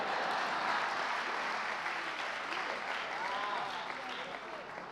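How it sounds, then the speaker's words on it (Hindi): An audience at a Hindi humour and satire poetry gathering in Jaipur breaks into dense, loud applause that gradually thins and fades, with a voice speaking over the clapping. "अभी तालियां थोड़ी कमजोर है"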